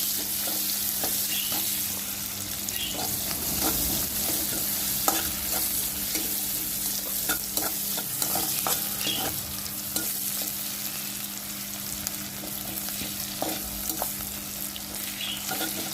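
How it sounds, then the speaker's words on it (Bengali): Chopped onion fries in hot oil in a wok for a Bengali fish curry, a constant close sizzle punctuated by repeated scraping and tapping of a stirring utensil. "পেঁয়াজটা 2-3 মিনিট ধরে ভালোভাবে ভেজে নিচ্ছি।"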